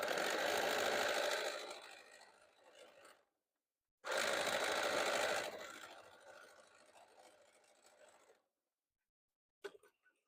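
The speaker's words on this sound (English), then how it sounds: "I'm going to sew stitch on this side so I can see that intersection." A sewing machine stitches quilt half-square triangles in two sustained runs of about three to four seconds each, loud and close with a steady whirring hum, separated by a pause and ending with a couple of small clicks.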